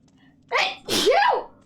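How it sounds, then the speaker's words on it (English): A single loud sneeze up close: a quick sharp intake followed by a forceful burst. "I'm gonna sneeze."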